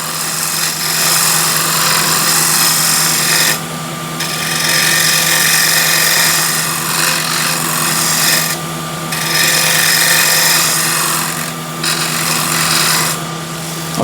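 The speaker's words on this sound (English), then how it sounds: "So back with the bowl scraper, I'll use it as a shear scraper." Bowl turning on a wood lathe, a bowl scraper used as a shear scraper: a steady motor hum under a continuous loud rasping scrape, broken by several brief pauses as the tool lifts off.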